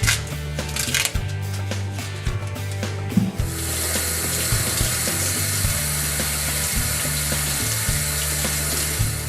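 Tomatillos being rinsed under a running kitchen tap for a steak salad, a steady close rush of water with some clatter from handling, louder and broader after a few seconds.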